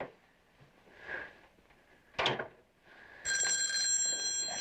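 An old landline telephone bell starts ringing near the end, loud and metallic, after a few soft room knocks and a drawer or door clunk, with no one talking.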